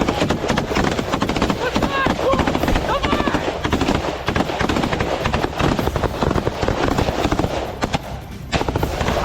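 Rapid bursts of machine-gun fire from Ukrainian special forces in combat against Russian positions crackle over a dense, noisy background, continuous and loud, with a brief lull near the end.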